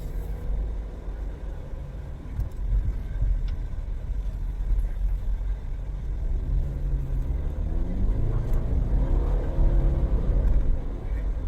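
An all-wheel-drive car, its engine overfilled by four quarts of oil, rumbles steadily and then revs with a rising, wavering engine note as it takes off, fairly loud and close, with no talking.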